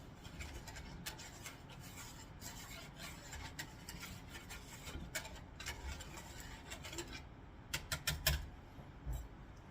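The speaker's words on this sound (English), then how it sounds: "Literally just whisk this stuff around." Water glassing solution for preserving eggs is whisked by hand in a container, producing a steady, quiet scraping and swishing rasp that continues throughout, with a few sharper clinks near the end.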